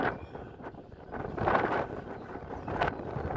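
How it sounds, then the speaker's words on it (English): Strong gusty wind blows outdoors on a farm, buffeting the microphone with a low rumbling roar that swells and fades in surges, fairly faint overall. "It's really windy."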